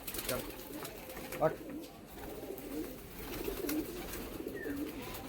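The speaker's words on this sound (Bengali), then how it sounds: "এখন দাদা পায়রাগুলো ঘরে ঢোকাচ্ছেন" Pigeons coo softly and repeatedly as they are put back into their loft, a low, rolling murmur close by, with a voice talking over the birds.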